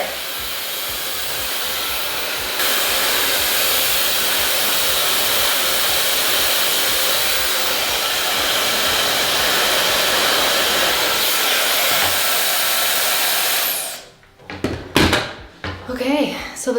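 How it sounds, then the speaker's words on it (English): A hair dryer blows steadily and loudly while short hair is blow-dried, running continuously for most of the clip before switching off, followed by brief handling clatter. "Okay, so the short hair is now blow dried"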